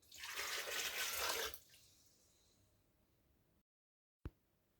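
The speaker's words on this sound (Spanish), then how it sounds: "Ahora colocamos los tubérculos en una procesadora y le agregamos medio litro de agua." Water rushes in a loud, full pour over yacón tubers in a food processor for about a second and a half, then fades to a faint trickle, followed by a short sharp knock.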